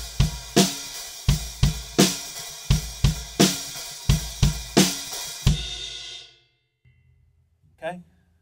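A close, loud drum kit plays a short two-bar passing groove with punchy kicks, snare hits and washy open hi-hats, building into a chorus, for about six seconds, then decays into quiet.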